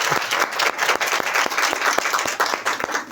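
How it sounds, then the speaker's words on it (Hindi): A room of spectators claps steadily and loudly at a Gospel of Matthew quiz competition. Sharp individual hand claps stand out from the dense, even applause, which carries on without pause for the full stretch and is heard without any talking. "तो हम इनके लिए जोरदार ताली"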